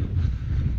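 Strong wind buffeting a microphone outdoors on a running track, a constant low rumbling roar close to the mic with no other sounds.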